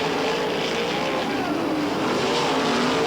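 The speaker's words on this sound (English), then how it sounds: "Tony Elliott on the bottom, racing at Bloomington, Indiana." Sprint cars race at Bloomington, Indiana during the 1995 Indiana Sprint Week, producing a dense, loud, unbroken engine roar from the pack throughout.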